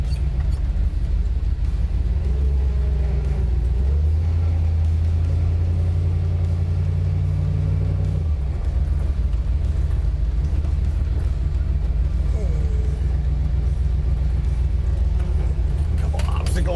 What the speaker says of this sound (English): you can't beat the sound of that freaking Ford V8